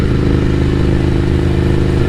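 A café racer motorcycle engine idling close by, a loud, steady, throbbing rumble with a faint mechanical clatter that holds even throughout.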